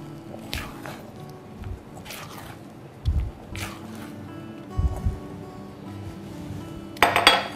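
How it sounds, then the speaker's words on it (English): Victoria sponge cake batter folded in a bowl with a spatula: a few soft, separated scrapes and dull knocks against the bowl, close but fairly quiet, with a brief clink near the end. "I'll give it just a final mix with the spatula"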